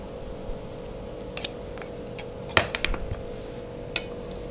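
Spoon clinking against a bowl while mixing coriander, turmeric and red chilli powder for stuffed capsicum: a few sparse, light metallic taps over a steady low hum, close and fairly quiet.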